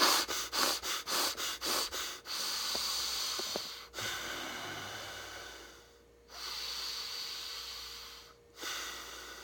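Heavy breathing close up: a run of quick rhythmic sniffs and snorts, then several long, loud inhales and exhales separated by brief pauses.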